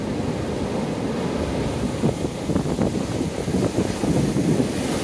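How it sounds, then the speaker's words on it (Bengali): Large sea waves surge and crash onto a shore during Cyclone Remal, a steady loud roar of surf with rumbling wind buffeting throughout, no voices. "সাগরের তীরে বড় বড় ঢেউ আছড়ে পড়ছে"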